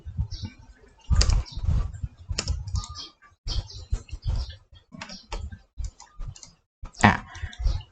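Computer keys being pressed on a keyboard while working in SketchUp modeling software, close and clear: bursts of rapid typing clicks and single taps separated by short pauses, with no voices.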